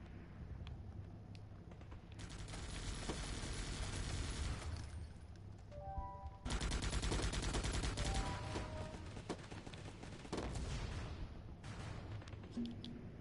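Sharpshooter units firing in the strategy game Guns Up during an alliance battle, making repeated thumping shots in dense volleys over a steady battle din, loud and sustained.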